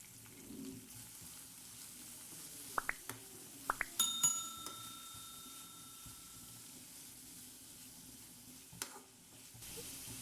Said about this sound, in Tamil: வெங்காயம் நல்லா டிரான்ஸ்பரண்ட்டாக சேஞ்ச் ஆகி வர்ற வரைக்கும் நம்ம நல்லா அதை வதக்கி விட்டுக்கலாம்